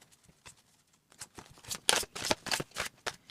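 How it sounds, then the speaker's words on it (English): A Marseille tarot card deck is shuffled nearby. A few soft, scattered card flicks build into a run of brisk, crisp riffles with no talking. "Let's give it a little shuffle here."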